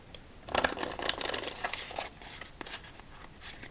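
A deck of playing cards being shuffled at close range in a solitaire game, producing a quick burst of crisp riffling and flicking followed by softer, scattered card taps and slides.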